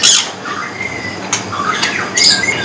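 A cucak rowo songbird at a bird market gives sharp squawking calls and whistled notes, near and loud, with a brief call at the start, another in the middle and another near the end.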